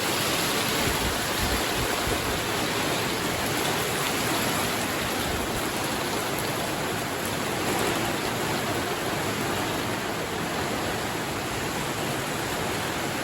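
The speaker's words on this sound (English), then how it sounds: "it's hailing and raining" Dense, steady downpour of rain and hail drumming on a greenhouse roof overhead, a continuous loud hiss with no voices.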